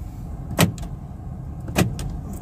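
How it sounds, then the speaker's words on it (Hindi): Central door locks on a new car actuating from the lock button during a pre-delivery inspection, two sharp mechanical clunks about a second apart, close and clear over a low background hum. "यहाँ पे लॉक का बटन है, देखें फंक्शन इसके प्रॉपरली हो रहे नहीं हो रहे।"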